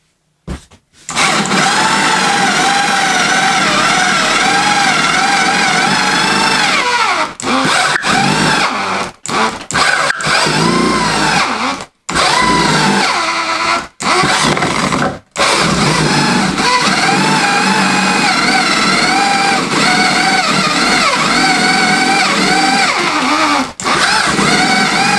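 A cheap electric drill runs loud and close in a long continuous high whine, cut by several brief stops and restarts, with a steady pitch between the breaks.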